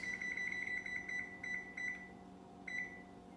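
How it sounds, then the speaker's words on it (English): A kitchen timer beeps while being set during stovetop cooking, with rapid clusters of short high-pitched electronic tones that stop, restart, and end with a single short burst over a steady low hum. "Cover and set your timer"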